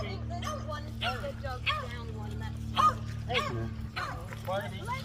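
Several dogs fight by a river, barking and yipping excitedly in a scuffle, high yelps coming in quick bursts over a steady low hum.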